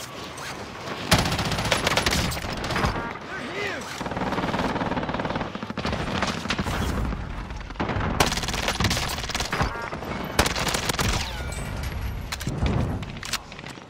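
Sniper gunfire in a shooter game, loud sharp cracks and bursts of rapid fire scattered through the stretch, heavy and close, with little talk over them.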